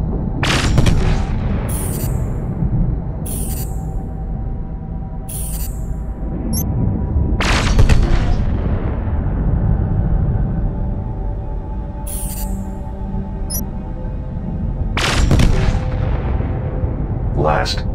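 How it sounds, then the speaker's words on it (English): Laser weapons fire in the space video game Space Bourne as repeated sharp zapping bursts, several in quick succession, over a loud constant rumbling game soundtrack. "Now let's try laser weapons."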